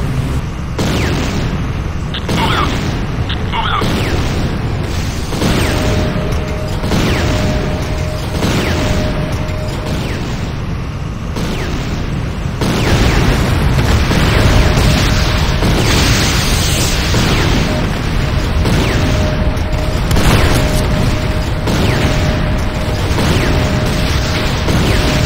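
Repeated explosions battering a GDI Advanced Guard Tower in the video game Renegade, a dense run of loud booms and bursts with a constant rumbling background, growing heavier in the second half.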